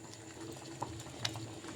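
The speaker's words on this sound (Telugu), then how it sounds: "ఉడుకుతుంది కదా." Payasam with milk, vermicelli, dry fruits and raisins bubbling softly in a pot, a low, steady simmer with a few small pops rising through it.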